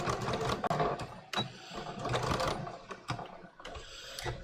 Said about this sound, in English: So now I'm going to stitch like that generous 1/8, almost 1/4.